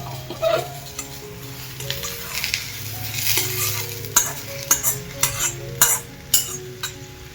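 Roasted radish pods being stir-fried with masala in a pan, a steady sizzle running under repeated scraping strokes and light clinks of a spatula against the metal, growing more frequent toward the end, with no talking.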